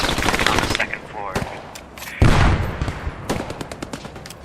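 An MG42 machine gun in the video game Post Scriptum fires in loud, rapid bursts of gunfire mixed with scattered distant shots, with a voice talking over parts of it.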